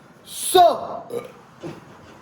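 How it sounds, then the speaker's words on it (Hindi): A man lets out one loud, close burp, followed by two smaller, softer burps in a quiet room. "पानी के डकार आ रहे हैं"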